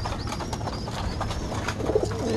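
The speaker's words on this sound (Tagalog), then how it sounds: "Ayan mga kalapati, nagsisikain na sila." Pigeons feeding in a backyard loft coo softly and repeatedly at close range, with light chirps and occasional wing flutters over a low background hum.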